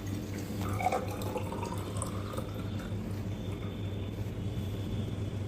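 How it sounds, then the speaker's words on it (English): A thin stream of milk pouring steadily into a lactometer cylinder, close and quiet over a low constant hum. "you have to pour the milk into lactometer cylinder"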